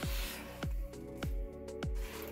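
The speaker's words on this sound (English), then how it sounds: "Scoop the sides to make sure you've mixed your batter really well." Lemon drizzle cake batter is stirred and scraped around a bowl in four or five slow, rhythmic, wet squelching strokes, quiet and close, with no voices.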